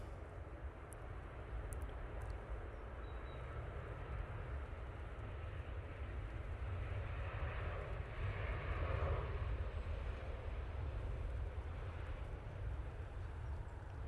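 Boeing 737-700 airliner at Manchester Airport, a steady broadband jet engine roar holding at moderate distance for about fourteen seconds, swelling slightly midway with no talk over it.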